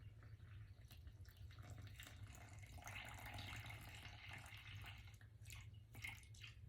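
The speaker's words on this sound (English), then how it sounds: "So 230 grams of water going in." Water pours from a tap into a bowl for a beginner's sourdough dough, a soft, steady trickle and splash heard faintly and alone for several seconds.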